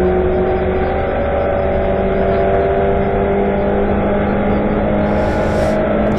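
750MC Stock Hatch Class A race cars at Silverstone drone past at high revs, a loud sustained engine whine with steady tonal harmonics, and a brief hiss of noise near the end.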